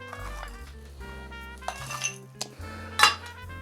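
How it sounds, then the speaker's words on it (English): Blackberry bourbon lemonade strained into a rocks glass over fresh ice, giving a few light glassy clinks and ice chinks, the sharpest one near the end, over steady tonal background music. "Now we're gonna strain this into a rocks glass with some fresh ice."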